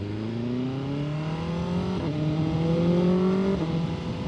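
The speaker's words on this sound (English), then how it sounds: "Love the way this motorcycle sounds." Motorcycle engine pulling away from a traffic light, revving up through rising pitch with distinct gear shifts, close and steady over a few seconds.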